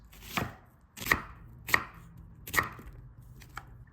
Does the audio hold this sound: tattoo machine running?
no